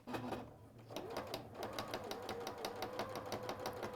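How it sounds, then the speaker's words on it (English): A sewing machine top-stitches around the edge of a tooth fairy cushion, its needle running in a fast, steady rhythmic chatter close by after a brief start-up, with no talk over it. "I'm just going to top stitch around the outside to hold the tooth in place"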